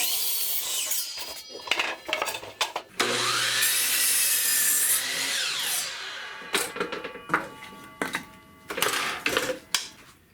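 Hand saw cutting through wood in rough back-and-forth strokes, a sustained rasping pass followed by shorter, uneven strokes, close and fairly loud.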